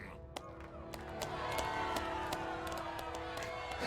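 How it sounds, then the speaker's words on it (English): Scattered claps ring out over a steady crowd murmur in a Star Wars: The Old Republic game arena, with sharp hand slaps popping up irregularly throughout. "the two fighters are clapping"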